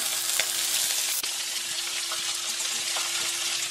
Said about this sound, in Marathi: याला आहे ना 2-3 मिनिटं चांगले छान परतून घेऊ.